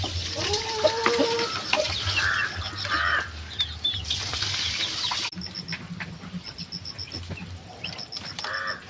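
Chickens on a farm cluck and chatter close by, with repeated short calls, a crowing note and brief bursts of scuffling over a low background hum; the activity thins out in the latter half.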